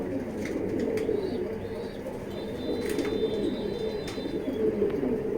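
Deep red male pigeon in a loft, low rolling coos repeating softly at close range, with faint chirps and a little background noise.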